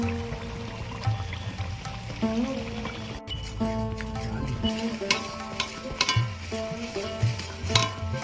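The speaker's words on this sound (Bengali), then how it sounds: "এবার আমি এখানে আমি তিনটে টমেটো দিয়েছি পেস্ট করে দিয়ে দেবো" Tomato paste hits fried garlic in a pan for a Bengali-style chicken curry, giving a steady close sizzle with stirring scrapes, while tonal background music plays throughout.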